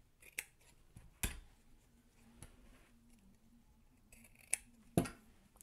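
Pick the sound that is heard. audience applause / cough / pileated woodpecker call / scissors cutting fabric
scissors cutting fabric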